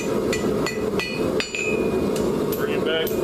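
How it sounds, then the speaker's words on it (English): A hammer strikes a hot drive hook finial on the anvil horn in a quick series of sharp, ringing metallic blows, close and loud, over a steady background hum. "while we're hitting the finial, bringing down the back of the hook"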